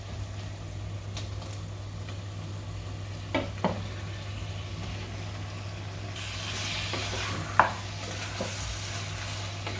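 Tomatoes tipped into onions frying in a pan for Hyderabadi mutton dum biryani, a soft sizzle rising under a steady low hum, with a few sharp clicks and clinks from stirring.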